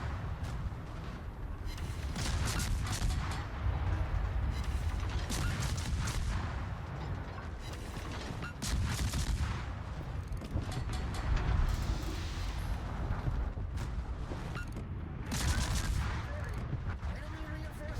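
Warship guns firing in World of Warships, a dense, rumbling barrage of booms and cracks that continues throughout, with someone talking over the gunfire.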